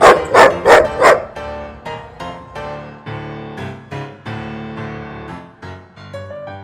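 A dog barks three times in quick succession up close, followed by a sustained musical tone with rhythmic pulses.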